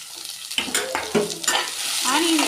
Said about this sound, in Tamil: அடுத்து நமக்கு தேவையான கொஞ்சம் எண்ணெய் ஊற்றிட்டு மறுபடியும் நம்ம கட் பண்ண ஆனியன் இருக்குல்ல, ஆனியனை கொஞ்சம் போட்டு வதக்கணும்